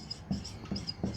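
Quick rhythmic strokes of writing on a board, close and fairly soft, with several evenly spaced taps and scratches over about a second.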